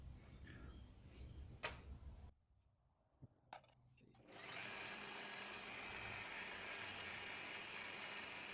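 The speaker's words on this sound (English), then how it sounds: "I'm just going to drill a hole the same diameter as the end of this self-tapper" Drilling a hole in stainless steel for a self-tapping screw: after a few handling clicks and a pause, a power drill whines up into a steady, fairly loud continuous grind that holds to the end.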